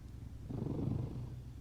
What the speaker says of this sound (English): Did you hear him purring just then?